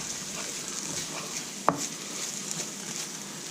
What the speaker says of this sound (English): now this this mixture here, we're actually going to fry this for quite a while